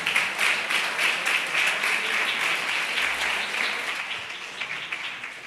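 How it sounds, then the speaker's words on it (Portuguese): A church congregation claps together in a warm burst of applause, dense and lively at first, then gradually tapering off over several seconds. "vamos aplaudir Jesus pela vida deles"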